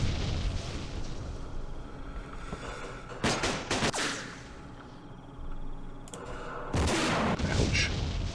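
Sustained gunfire and artillery from the Vietnam War strategy game Campaign Series Vietnam, Battle of Pleiku 1968: a constant dense rumble of shooting, broken by several loud booming explosions that come in sharp bursts.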